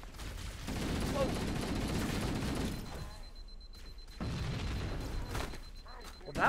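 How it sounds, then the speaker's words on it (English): A big explosion in the video game Halo, a loud rumbling blast followed by sustained roaring debris and crackling that fades, then flares again, with gunfire-like bursts and some voices beneath. "that was a big freaking explosion"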